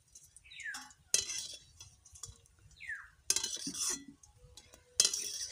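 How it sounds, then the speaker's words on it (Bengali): Golden-fried homemade paneer pieces lifted from the pan onto a plate, with several sharp metallic clinks and scrapes of utensils against the cookware spaced a few seconds apart and no talk. "এবারে প্লেটে তুলে নেব।"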